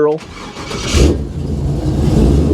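A small-block Chevy V8 in a 1967 Camaro cranks briefly and fires, settling into a loud, rough, steady idle close by in a winter driveway, with a person talking over it.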